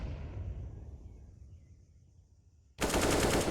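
Counter-Strike match on the Ancient map: a fading rumble of earlier fire, a near-silent gap, then a sudden loud burst of automatic rifle fire for a wall bang shot.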